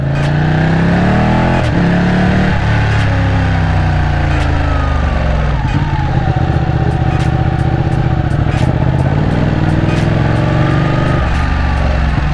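A Ducati 899 two-cylinder motorcycle engine roars loudly and steadily while riding, with a continuous close rumble and harmonic revving that rises and falls through gear changes.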